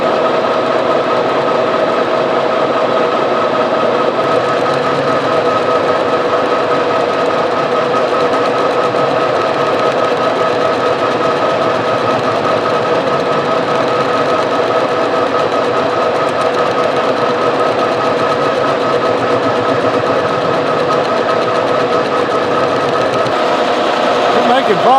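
Lathe turning down a welded-up journal on a Goldens' No. 2 cane mill: a loud, steady mechanical whir and hum with a constant grinding cutting tone throughout, and talk likely mixed in.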